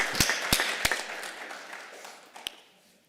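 An audience claps hands in a brief scattered round: a few sharp loud claps, then a softer patter that fades out, with one last clap near the end.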